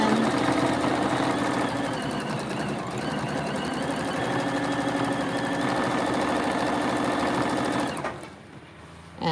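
Sewing machine stitching a quilting template design, a steady close mechanical whir with fast rhythmic needle clatter running continuously before slowing and stopping near the end.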